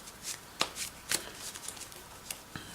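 A deck of Yu-Gi-Oh cards is shuffled by hand: soft papery riffles and several sharp, quick flicks in irregular bursts, close and fairly quiet, with no voices.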